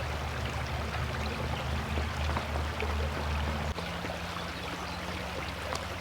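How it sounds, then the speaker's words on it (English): A small creek flowing steadily along a walking path, a continuous broadband wash of running water close by with no one speaking, and a brief dip partway through. "Just walking here along this little creek and enjoying the sound of water."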